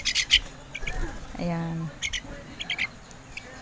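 Pet birds perched outside their cage give short bursts of high chirps and tweets, fairly near, with a brief squawk-like call and a voice speaking softly in between.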